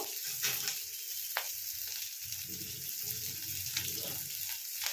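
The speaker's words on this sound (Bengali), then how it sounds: "আদাটা একটু কম, আর দুটো কাঁচা লঙ্কা দিয়ে একটু ভেজে নেব।" Chopped ginger and green chillies fry in a pan with a steady, soft, close sizzle, with a few faint scrapes of stirring and no talk.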